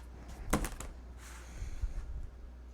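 Paper cut on a trimmer, a quick rattling slide of the blade around half a second in, then softer rustling and clicks as the sheet is handled, close and fairly quiet.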